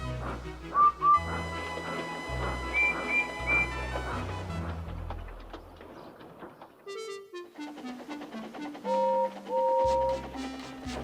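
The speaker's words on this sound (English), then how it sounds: "The guards soon blew their whistle, and Edward puffed away." A toy train guard's whistle toots in short, high repeated notes amid a musical backing with melodic tones and bass, the whistle blasts recurring several times across the passage.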